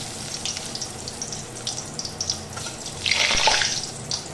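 Chicken spring rolls frying slowly in hot oil over a low gas flame, a steady hissing sizzle that swells louder toward the end, close with no voices.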